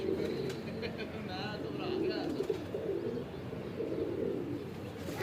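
Pigeons cooing nearby on a rooftop, soft throaty coos and occasional chirps running steadily beneath speech.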